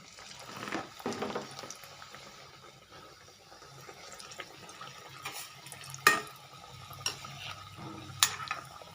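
Sweet kadbu dumplings are slipped one by one into hot oil and fry quietly, with faint bubbling and a few sharp splashes and clinks as each piece goes in; no one speaks.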